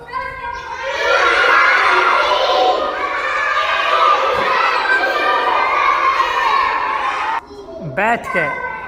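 A classroom of schoolchildren shouts together loudly in unison for several seconds, a dense chorus of young voices, then breaks off into a few scattered voices.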